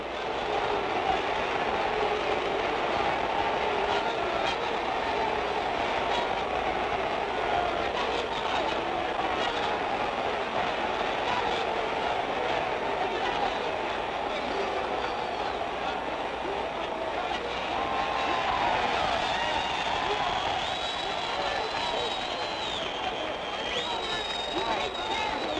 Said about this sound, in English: Half the crowd likes it and the other half doesn't.